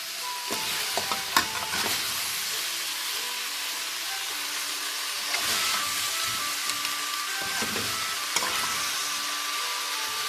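Pork stir-fried with chili paste and red beans in a pan gives a loud, continuous sizzle broken by scraping stirs of the spatula at intervals.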